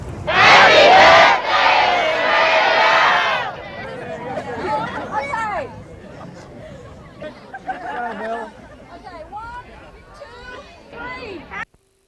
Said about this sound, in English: the Smiths of the region gave a cheer for this, our bicentennial year